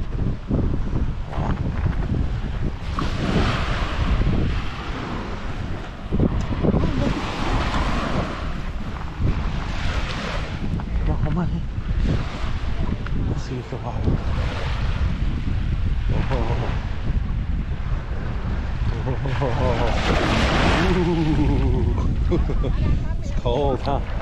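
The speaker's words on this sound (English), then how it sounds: "we finally made it to the beautiful white sand beach of St. Pete Beach" Gulf waves and strong wind at the white sand beach of St. Pete Beach, Florida, a loud continuous roar with surf surging in slow repeated swells and heavy wind buffeting the microphone.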